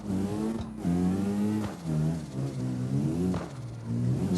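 A car engine in the CarX racing game revs repeatedly with an airy, throaty exhaust note, rising and falling in several loud surges across the clip with no talking.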